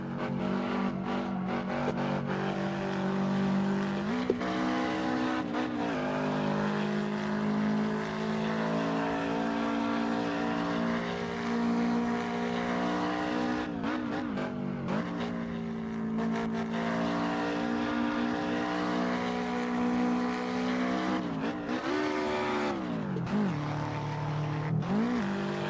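Car engine in the Assetto Corsa racing game traffic mode, a steady loud drone rising and falling as the car accelerates and shifts gears, continuous throughout with no talking.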